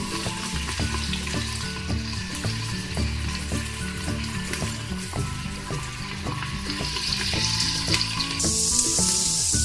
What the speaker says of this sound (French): Il faut qu'on fait revenir notre oignon.